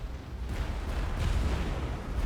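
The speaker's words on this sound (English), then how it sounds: "Explosions." Explosions in The Falconeer boom in a rolling, muffled cluster, a couple of heavier bursts swelling over a continuous low rumble, with no talking.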